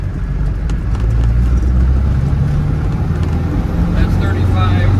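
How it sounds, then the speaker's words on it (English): A 1993 Land Rover Defender 110 with the 300Tdi diesel accelerates uphill in third gear, a loud, steady, close engine drone with rough low rumble and road noise throughout, with someone talking over it. "And let's accelerate through third gear."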